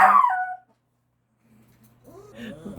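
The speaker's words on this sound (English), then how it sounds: "And please excuse Archie, he is howling at the neighbors." A dog gives a short, loud howling whine at the start, then falls silent before faint rumbling and a distant murmur return near the end.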